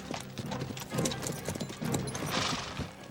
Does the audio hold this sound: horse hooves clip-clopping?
yes